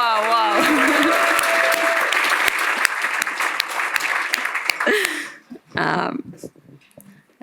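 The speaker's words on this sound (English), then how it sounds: "please give an equal level of applause for former Ireland player Rory Best." Crowd applause and cheering for former Ireland rugby player Rory Best at a rugby event in Chicago, loud and sustained for about five seconds before breaking off, with a voice speaking briefly afterward.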